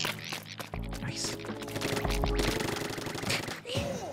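Rapid gunfire in a video game, bursts of shots rattling continuously over game music and effects, with a voice talking over them.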